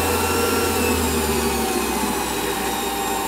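A variable-speed lathe motor runs steadily at about 800 RPM, giving a constant, loud whirring hum with a faint whine on top, close and uninterrupted.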